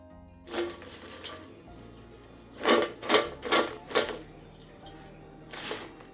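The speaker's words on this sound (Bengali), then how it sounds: "আশা করি আওয়াজ শুনেই বুঝতে পারছেন ফ্রেঞ্চ ফ্রাইগুলো কতটা সুন্দর মুছমুছে হয়েছে" Crispy homemade fried potato French fries rattling and crunching as they are tossed in a bowl, a few quiet rustles followed by a cluster of four sharp crisp shakes and one more near the end.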